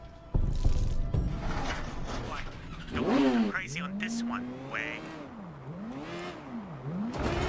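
A car driven in the video game Sleeping Dogs, engine revving and accelerating in repeated rising and falling sweeps with clatter, moderately loud alongside game sounds.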